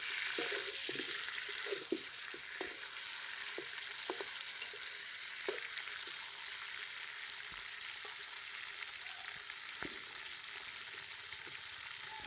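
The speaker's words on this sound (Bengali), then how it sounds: "এগুলো ভালো করে ঢেকে ঢেকে লাল করে ভেজে নেব।" Fish heads frying covered in a pan until reddened for murighonto, a steady broadband sizzle throughout with scattered light clicks and pops, fairly quiet and continuous with no talk.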